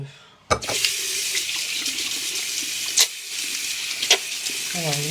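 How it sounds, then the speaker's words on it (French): Tap water runs steadily into a sink while hands are rinsed, a continuous broadband splash with a few brief louder gushes and small clinks, with no talk over it. "Alors, je me rince les mains"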